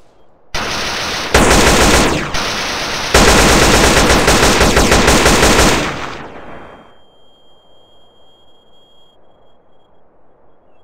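Rifle gunfire from a Battlefield 2142 weapon mod in GTA San Andreas: loud rapid automatic bursts in three stretches, then fading into a tail of faint repeating pulses and a thin tone.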